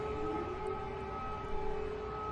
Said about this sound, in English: Because I need the siren.